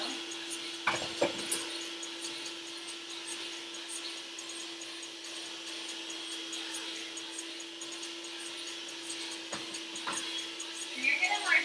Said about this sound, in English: We're going to fine grind our almond flour a little bit more because a lot of it did not make it through the sieve